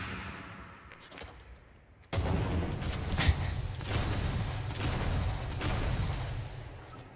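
Gunfire in the video game Dead Island 2, a burst of heavy, dense blasts that starts abruptly and continues as sustained loud shooting and action noise.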